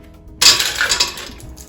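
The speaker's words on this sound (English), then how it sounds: "Begin with putting the ice in the blender." Ice cubes tumble into a blender jar for a Jolly Rancher and Sprite drink, a sudden loud clattering rush that fades over about a second, heard close with no talking.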